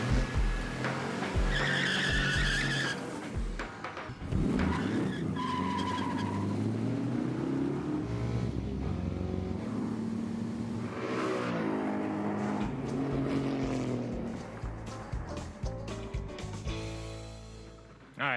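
Drag-race launch pitting a Demon against a truck: roaring engines and squealing tires build and sweep through rising revs, loud and close, with shifting pitch across several pulls.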